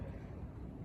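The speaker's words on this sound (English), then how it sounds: "Sorry for the background noise, a little windy." Low, rumbling wind buffeting a microphone outdoors beside a John Deere 3010 tractor, steady and close throughout with no voices.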